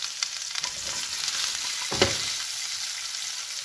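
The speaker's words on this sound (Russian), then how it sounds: "Перец у нас во время жарки любит брызгаться." Steady oil sizzle of peppers frying in a pan for imam bayildi, a dense crackling hiss with a brief louder pop partway through.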